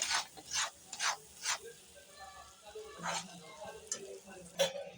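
Pav bhaji masala with Kashmiri chilli stirred in a pan, with repeated short rasping scrapes of the spoon in an uneven rhythm and light sizzling. Quiet talk can be heard in between.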